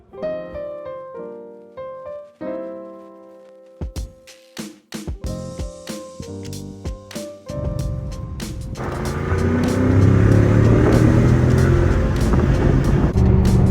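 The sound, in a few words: Audi A6 4.2 V8 manual driving on mountain road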